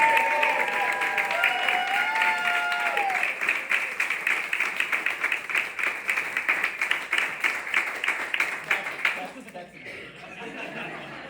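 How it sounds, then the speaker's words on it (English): Sustained applause from the audience at the Folly Theater groundbreaking ceremony, a dense wash of clapping with a few chuckles early on, holding steady for about nine seconds before tapering off. "How about a warm round of applause for Brian Williams?"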